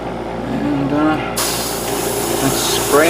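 Spray paint hissing onto the inner torso frame of a 1/72 Bandai Mailes Kenbu model kit, a broad steady hiss that starts abruptly partway through and continues to the end over a low background hum.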